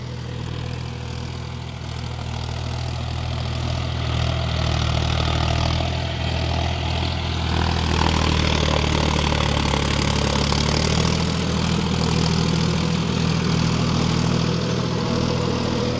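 John Deere 5050D GearPro 4WD tractor idling at low RPM in a field, a steady close low diesel drone with a slightly rough, pulsing beat that rises a little in intensity partway through.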